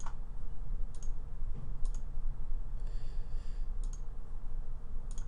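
Sharp, light mouse clicks sound at a slow, irregular pace over a constant background hiss while someone works in Anim8or 3D modelling software.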